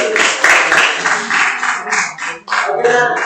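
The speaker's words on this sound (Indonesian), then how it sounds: "beri tepuk tangan buat teman-teman." A high school class applauds classmates: dense, loud, steady clapping from many hands up close, with students' voices mixed into the noise throughout.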